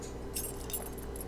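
A bunch of keys jangles in brief metallic clinks, two quick shakes close by over a low steady hum, no talking.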